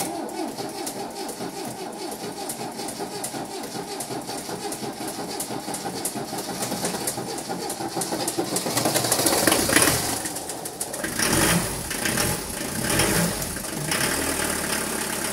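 A restored Mercedes W115 diesel engine cranks and fires for its first start, then settles into a steady, clattering idle. The sound is close and continuous, growing louder and rougher near the middle before evening out.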